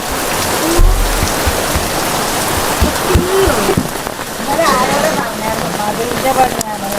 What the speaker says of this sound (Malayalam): ഇങ്ങനെ മഴയെന്ന് പറഞ്ഞാൽ എങ്ങനെ പണി പണിയെടുക്കാൻ പറ്റുക